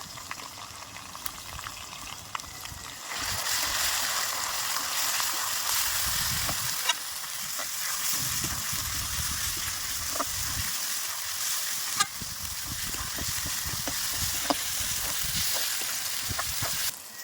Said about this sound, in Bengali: পেঁয়াজটা আমার ভাজা হয়ে গেছে এবার দিয়ে দিচ্ছি রসুন বাটা আদা বাটা জিরে বাটা ধনিয়া গুঁড়া